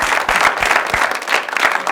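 Studio audience applause welcoming a singer as a guest on a comedy talk show, dense steady clapping filling the whole stretch at close, loud level with no talk over it.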